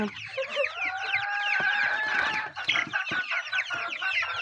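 Sixteen-day-old broiler chicks cluck and peep continuously as a dense, close flock, their overlapping calls filling the pen with no speech over them.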